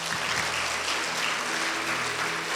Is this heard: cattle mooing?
no